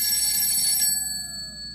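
A phone rings inside the video game GTA 5, its bright electronic chirping tone loud for nearly a second, then a lingering tone fading into low background hum.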